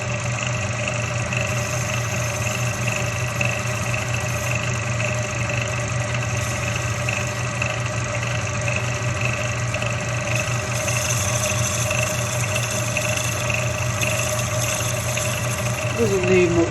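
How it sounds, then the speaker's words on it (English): A workshop lathe trimming a neoprene motorcycle fairing part runs with a steady, close humming drone and a faint whine on top, continuous throughout. "so I'm going to trim that up on the lathe."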